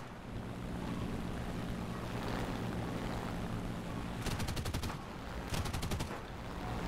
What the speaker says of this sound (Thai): ยิง12มม. เล่นๆไปครับ